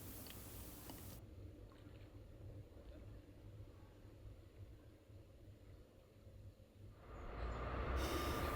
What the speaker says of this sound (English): this train is carrying China clay from St Blaise, heading across the Royal Albert Bridge into Devon